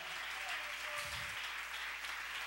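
A church congregation clapping together in praise during a Spanish-language sermon, a continuous mid-level patter of many hands with a brief low thump partway through.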